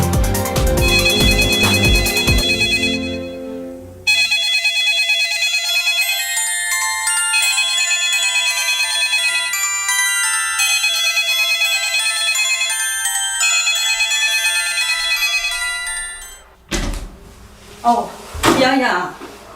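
A phone ringtone plays a loud, repeating electronic melody for most of the stretch, then stops abruptly, followed by some knocks and brief movement sounds.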